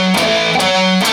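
Distorted electric guitar playing a short riff from a solo, thick overdriven notes with a few quick picked attacks, close and loud, no talk over it.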